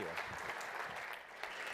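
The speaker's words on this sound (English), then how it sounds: "Can we get a quick round of applause for Byron?" Applause from a conference audience greeting a speaker at the nVision 2013 event, a steady wash of many hands clapping in a large room, moderately distant and fairly faint.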